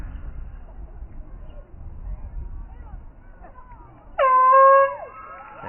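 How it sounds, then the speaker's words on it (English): A short, loud blast of an air horn ending a girls' high school lacrosse game, following a stretch of low crowd murmur and ambient noise. "the air horn will sound here at Braintree High School"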